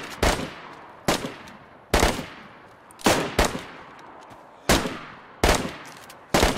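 Rifle gunfire with .308 rounds in the survival game DayZ on a Brazil map: eight loud, sharp single shots spaced roughly a second apart, each followed by a rolling echo tail, with no talking.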